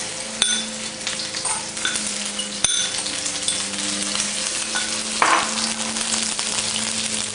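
Shallots sizzle in hot oil for a Panang curry, a steady close frying crackle with occasional sharp clinks of a utensil against the pan.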